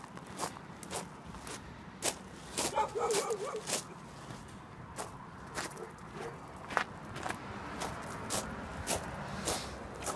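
Dogs at an animal shelter with a heated kennel, repeated sharp barks and yips at irregular intervals alongside whimpering and footsteps, moderately close, with someone speaking quietly in between.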